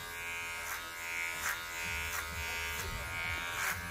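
Electric hair clippers cutting a man's hair, a faint steady buzz close by, with soft rhythmic swishes as the blade passes through the hair.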